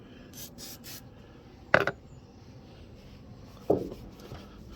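WD-40 is rubbed by hand into faded plastic side trim on a car, making two short, scrubbing strokes over a quiet, steady background hiss.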